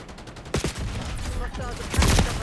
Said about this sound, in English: I'm getting shot, bro.